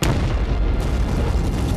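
A single loud, deep First World War artillery shell explosion booms and rumbles on, filling the clip with heavy low-end roar.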